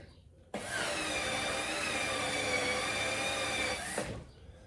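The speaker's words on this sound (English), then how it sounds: "I just use a drill on here" A steady, loud electric drill whirs continuously for several seconds, starting and stopping abruptly, with a high motor whine throughout.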